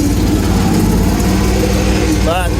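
The small engine of an AGT Industrial KRW23 end loader tractor runs loud and steady, revving as it takes off in travel gear. Someone talks over the constant engine drone.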